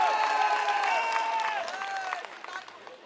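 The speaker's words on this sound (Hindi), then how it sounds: "आप अपने लिए भी जोरदार तालियां बजाइए।" A large crowd claps loudly at an outdoor political election rally in Rajinder Nagar, Delhi. The dense, steady applause carries raised voices and chanting on top, then slowly thins out toward the end.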